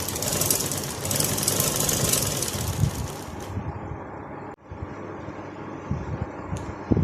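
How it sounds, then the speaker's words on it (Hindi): A sewing machine runs steadily as it stitches the hem of a shalwar leg, giving a continuous dense mechanical whir. It pauses briefly near the middle and then carries on running with no talking. "पांचे की सेकंड सिलाई लगाते हुए आप पैर जो है वो बिल्कुल पहले वाले सिलाई के साथ साथ चलाएंगे"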